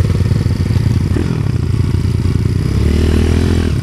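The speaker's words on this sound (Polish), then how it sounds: "A to motor." A motorcycle engine runs close and loud throughout, a steady rough drone that rises slightly toward the end, with some clatter and no talk.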